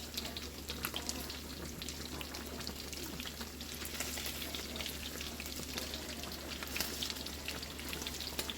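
Meat browning in hot grease in a pan, a steady, close sizzle with scattered crackling pops running continuously and fairly quietly, with no talking.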